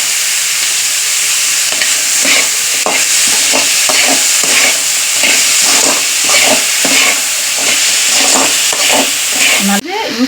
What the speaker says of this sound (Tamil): நல்லா வதக்கிற வெங்காயம் கொஞ்சம் ப்ரௌனாக ஆகணும்